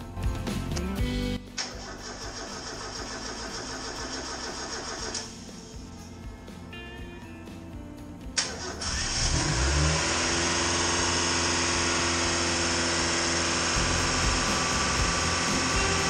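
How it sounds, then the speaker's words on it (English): A Mazda Miata project car, just after its swapped fuel feed and return lines were corrected, cranks and catches near the end, then settles into a loud, steady, high idle, preceded by uneven mechanical noise. "Now that the car is running, we can start dialing it in. As you can hear, the idle's really high."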